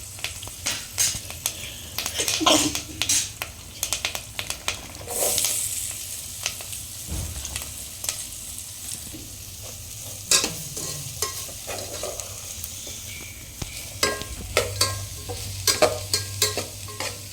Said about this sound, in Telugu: ఉల్లిపాయలు వేసుకొని ఫ్రై చేసుకోవాలి